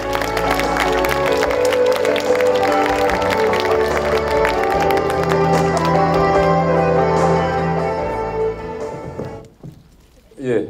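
Audience applause at a film festival closing ceremony in Busan, a dense sustained clapping from a large crowd that fades out near the end.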